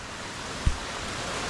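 A small waterfall near Kondeshwar temple outside Pune gives a steady, even rush of falling water across the whole stretch, with one brief low thump partway through and no voices.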